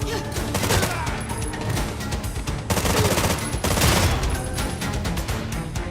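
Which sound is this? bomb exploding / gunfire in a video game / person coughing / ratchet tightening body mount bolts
gunfire in a video game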